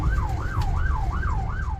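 An ambulance siren in Rafah, Gaza, wails in a steady repeating rise and fall as the vehicle drives toward a hospital with a car following, heard loud over a low rumble of road and engine noise.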